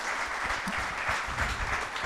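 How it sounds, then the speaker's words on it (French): Audience applause fills a poker sponsorship conference hall, a steady, dense patter of clapping hands that holds at an even level throughout, with a faint voice briefly underneath. "Je pense qu'on peut les applaudir et les remercier d'être venus."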